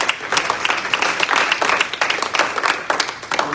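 A church congregation bursts into applause during a Spanish-language sermon, a dense patter of many hands clapping close by, steady and lively throughout, with a voice starting to speak at the very end.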